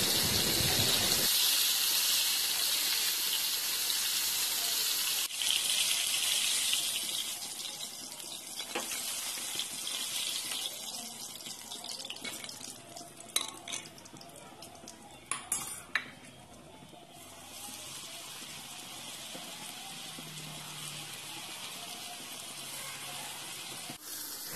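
Chicken kebab fries in hot oil with a steady, loud sizzling hiss, broken by a few metallic clinks of a utensil against the pan.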